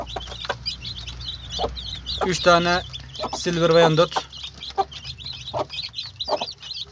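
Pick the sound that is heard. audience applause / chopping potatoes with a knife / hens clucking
hens clucking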